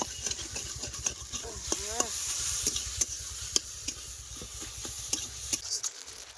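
Leafy greens and onions sizzle in a pan, soft hissing with rapid rhythmic stirring scrapes and taps, with a low rumbling hum underneath.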